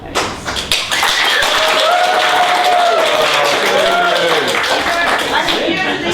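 A debate audience votes by applause, producing a sustained, loud wall of clapping with cheering and voices mixed in.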